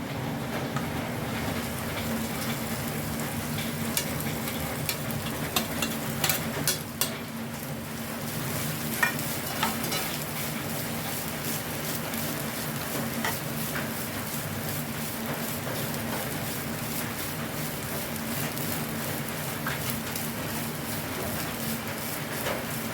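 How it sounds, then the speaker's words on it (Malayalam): Grated coconut frying in a pan for a Kerala banana snack, a continuous close sizzle broken by frequent scraping and tapping ticks as it is stirred. "ഇനി ഞാൻ ഇതിലേക്ക് നാളികേരാണ് ഇട്ട് കൊടുക്കുന്നത്"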